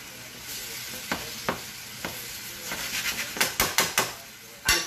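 Food cooking in a pan gives a steady sizzle, broken by sharp scrapes and clinks of a utensil stirring against the pan that grow quicker toward the end.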